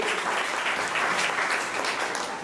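Steady crowd applause, dense and continuous clapping from many hands filling the whole stretch, with no talking over it.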